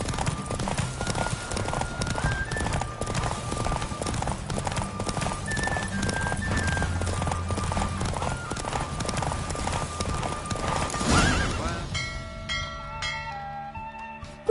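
Rapid, steady hoofbeats of a galloping horse in a horse race in The Witcher 3: Wild Hunt thud continuously under a musical score, ending with the gallop fading and a short chime-like tone.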